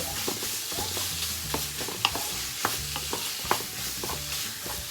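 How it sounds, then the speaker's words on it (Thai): Pork stir-frying in a pan for a wild chilli curry, a steady sizzle under repeated spatula scrapes and a few sharp clinks, close and moderately loud with no talking. "ผัดจนหมูมันสุกนะคะ ผัดให้หมูสุกนะคะพี่น้อง ผัดให้หมูสุกๆ"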